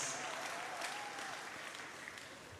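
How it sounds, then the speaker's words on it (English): Steady, dense applause from a graduation ceremony audience honoring national scholars, exhibition and bursary awardees, a continuous wash of clapping heard at a distance, fairly faint and even throughout. "Let's have a round of applause for our 66 national scholars, exhibition, and bursary awardees."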